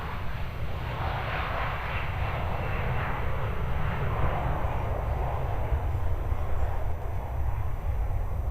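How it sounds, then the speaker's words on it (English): A Sri Lankan Airbus A330 jet takes off at Melbourne Airport, its engines making a steady, heavy roar heard from a distance for the whole stretch, with no talking. "Sri Lankan Airbus A330."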